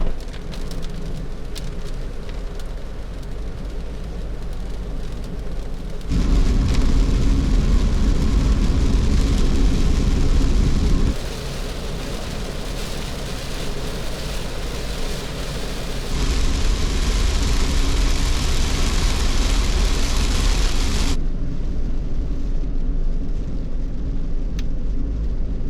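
A kei camper van with a turbo engine, the JP STAR Happy1, creeps slowly along a mountain road at night in heavy rain, a steady loud wash of rain and road roar swelling in stretches as the drive continues, with no talking.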